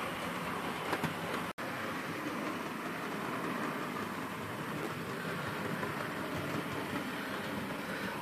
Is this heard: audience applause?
no